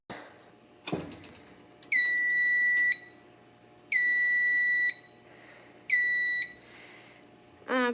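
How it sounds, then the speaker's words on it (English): A fire alarm panel in trouble after one of its devices is removed gives three loud, steady electronic beeps of about a second each, evenly spaced, after a brief knock, with no talking. "Oh yeah, the panel beeps."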